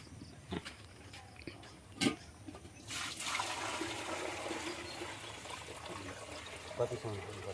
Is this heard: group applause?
no